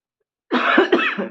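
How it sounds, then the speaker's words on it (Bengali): A person sick with a sore throat and fever coughs hard, two or three harsh close bursts in quick succession after a brief silence. "বারবার কাশি হচ্ছে"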